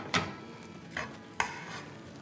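Fried masala tikka pieces for a Baloch karahi being lifted out and dropped into another pot, giving three short clattering scrapes and clinks spaced about a second apart at close range, with faint oil sizzle beneath.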